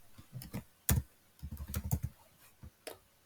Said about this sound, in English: again we type something